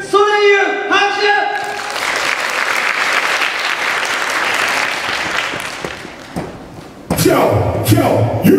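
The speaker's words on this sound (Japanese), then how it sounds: "皆さん大きな拍手歓声でお迎えください。" Loud applause and cheering from the crowd at a kids' double dutch contest, a voice over a speaker first, then a sustained roar of clapping and shouts that fades before music and amplified talk return.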